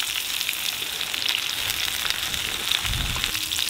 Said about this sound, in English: We're only going to cook these sausages